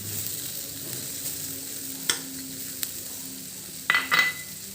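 Chopped onions fry in a pan with a low steady sizzle, broken by a couple of sharp utensil taps and a short burst of scraping stirring near the end.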